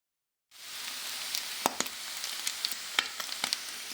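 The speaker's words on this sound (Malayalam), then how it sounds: "ബീഫ് മുരിഞ്ഞിട്ടുണ്ട്. ഇനി നമ്മൾ ഒരു ഭാഗം തിരിച്ചിട്ടേക്കുവാണ്, അപ്പുറത്തെ ഭാഗം." Beef pieces frying in a pan in very little oil for a spiced beef dish: a soft, steady sizzle begins after half a second of silence, with scattered crackling pops and occasional light stirring knocks.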